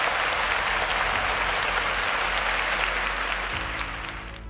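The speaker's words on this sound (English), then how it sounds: "A round of applause for Esther" Studio audience on a Nigerian quiz show applauding a contestant, steady dense clapping that fades near the end over a low background hum.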